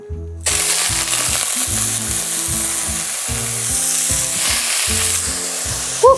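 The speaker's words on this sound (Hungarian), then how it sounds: "meleg serpenyő, forró vizes brokkoli, vigyázni, mert sercegni fog" Blanched broccoli dropped into a hot oiled frying pan bursts into a loud, continuous sizzle that keeps crackling and hissing close by.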